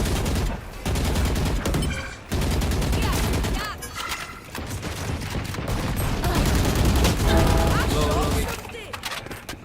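Rapid bursts of gunfire in Valorant, dense automatic shooting through most of the clip with brief pauses, loud and close, with players talking over it in places.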